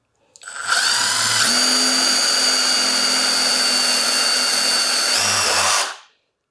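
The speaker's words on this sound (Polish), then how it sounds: "Tutaj mam wiertło do 12 mm i jedziemy." A Milwaukee Shockwave impact-duty step drill bit cuts a hole up to 12 mm with a loud, continuous, high-pitched power-drill whine lasting about five seconds, with brief low motor rumble at start and finish.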